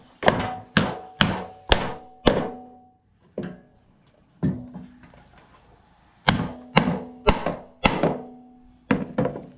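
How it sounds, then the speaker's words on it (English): Close, loud hammer blows drive the square part of a bolt into wood on an Agri Fab 48 inch aerator weight box, coming in quick rhythmic bursts of four or five strikes separated by short pauses and lighter taps. "Now the bolt's going through there, but what I'm driving in is that square part. I'm actually driving it in to the wood."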